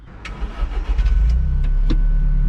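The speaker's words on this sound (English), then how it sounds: "All right, it started the car." An Alfa Romeo 4C with its check engine light on cranks and then fires, the low engine rumble building from sputtering starter pulses into a steady, close idle, with no one speaking.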